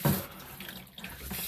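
Water gushes and gurgles steadily through a drain that is being cleared with a snake, a close, continuous trickling rush with a brief louder splash at the start.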